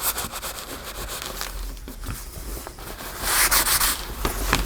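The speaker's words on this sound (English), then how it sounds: "Cleaning off our glue." Dried glue is scraped and rubbed off woodwork in a steady, close scratchy rasp that intensifies near the end, alone with no talking.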